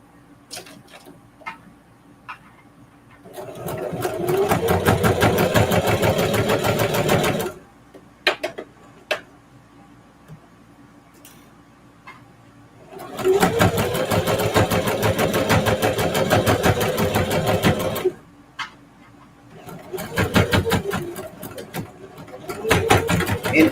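A sewing machine stitches a seam on jeans in two long, loud, steady runs of rapid needle chatter, with a shorter burst near the end. Brief speech falls in the quiet gaps between runs.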